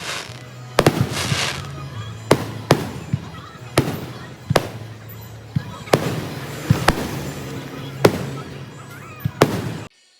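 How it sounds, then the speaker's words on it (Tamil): A Fourth of July fireworks display at an outdoor church picnic sounds out as a series of loud booms and pops, about ten over several seconds, spaced irregularly over a crackling wash, with people talking faintly beneath. "இதுதான் வந்து அந்த வான வேடிக்கை."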